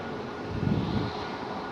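A KLM Boeing 737 at Amsterdam Schiphol gives off a steady, broadband engine roar, swelling slightly in the middle and then holding at a moderate distance.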